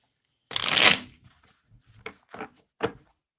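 Playing cards are shuffled close by in one loud riffling burst, followed by several short softer taps and flicks as the cards are squared and handled, with no talking.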